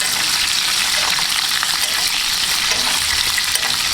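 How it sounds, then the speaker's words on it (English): Steak sizzling and frying in butter in a Griswold cast iron pan while being basted, a steady loud hiss with crackling spatter close up and no talk. "take that butter and baste it over the steak like this"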